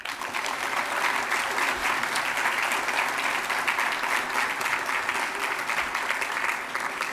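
Sustained applause from the audience at a formal school board meeting, honoring faculty and staff of Cypress Ridge High School, a steady dense wash of clapping at even loudness throughout.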